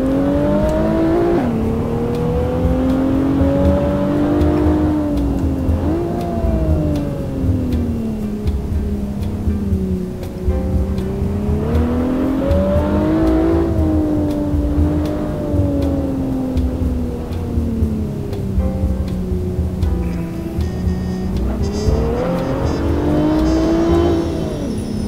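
Race car engine in Assetto Corsa driven steadily along a road, revving up and easing off in smooth repeating waves, loud and close, with no one talking over it.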